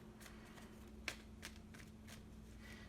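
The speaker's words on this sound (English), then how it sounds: "so we don't need to shuffle too much" Soft, papery riffles of a tarot card deck being shuffled, a few quick bursts over a faint steady hum, quiet and close.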